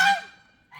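Geese or other fowl honk in an outdoor bird lot, one loud nasal honk close by that fades, then a second call starting, with no talking.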